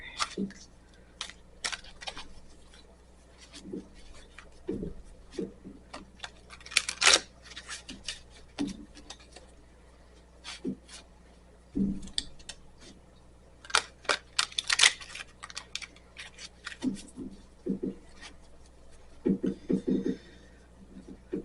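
Oversized tarot cards are shuffled by hand, giving scattered crisp riffles, snaps and slaps in irregular bursts over a quiet room, close and moderately soft.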